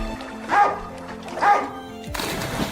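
A dog barks twice in short, spaced yips in a video game over a soft electronic background, followed by a burst of brighter noise.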